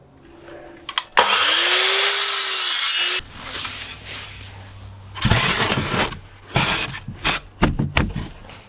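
A handsaw cuts wood to build a bonsai shipping box, with loud close rasping strokes in bursts, a long first stroke and then quicker uneven ones, and no talk.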